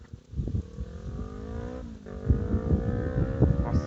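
A loud Yamaha MT motorcycle passes nearby, its engine note climbing steadily in pitch as it accelerates, with a rough rumbling roar throughout.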